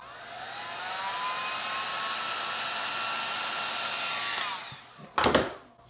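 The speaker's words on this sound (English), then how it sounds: "I'm going to use the heat gun to warm it up a little bit." A heat gun blows with a steady, whining hiss for about four seconds while warming a Mohawk wax fill stick for filling nail holes in stained cedar trim, then winds down, followed by a brief clatter.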